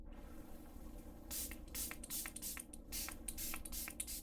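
Several short hissing sprays from a spray bottle onto VR headset lenses, in quick uneven bursts, close by and fairly quiet.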